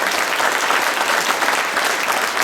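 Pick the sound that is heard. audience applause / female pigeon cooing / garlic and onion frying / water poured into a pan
audience applause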